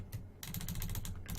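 Rapid clattering keystrokes on a computer keyboard while code is typed, a quick steady run of close, crisp clicks after a short pause.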